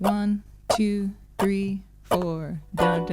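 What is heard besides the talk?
No distinct noise like a dog, phone or traffic.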